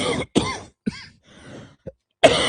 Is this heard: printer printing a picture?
no